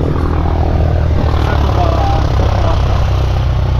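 A 1978 Cessna's propeller engine drones loud and steady, a constant low rumble without pause, with people chatting over it.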